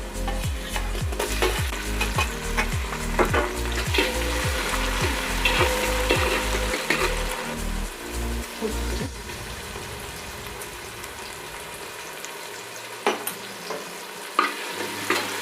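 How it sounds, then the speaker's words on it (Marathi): Onion and tomato fry in oil for a mutton curry, with a loud continuous sizzle. Rhythmic scraping strokes from stirring come first, then the sizzle settles and thins out, broken by a few clinks near the end. "कांदा तेलामध्ये अगदी लालसर परतून घ्यायचा व्यवस्थित कांदा भाजून झाला आहे आत्ता आपण त्याच्यामध्ये टाकणार आहोत एक चिरलेला टमाटा"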